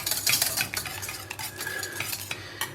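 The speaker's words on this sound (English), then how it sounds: "Stir that in." A spoon stirring freshly ground black pepper into a French onion sauce, soft continuous scraping and light clinks of metal on the pan close by, with a faint bubbling beneath.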